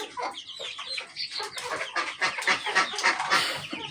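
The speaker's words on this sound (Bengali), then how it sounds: "এইখানে খাঁচায় খাঁচায় দেশি মুরগিগুলো রাখা আছে ধাপে ধাপে" Native deshi chickens cluck steadily in stacked cages inside a rooftop coop, many birds overlapping in busy, close, moderately loud calls with no talk.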